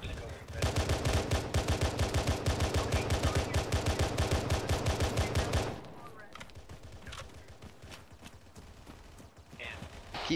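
Rapid machine-gun fire rattles loud and continuous in a military game, then cuts off, leaving scattered distant shots and faint voices in the background.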